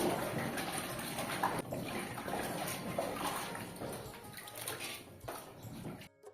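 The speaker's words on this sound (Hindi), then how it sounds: "तो यहाँ पर हमने ले लिए थे 5 किलो आलू और इनको 2 से 3 पानी बहुत अच्छी तरीके से धुल लेते हैं।" Five kilograms of potatoes are washed by hand in water in a home kitchen, with steady sloshing and splashing close by that continues for several seconds before stopping abruptly.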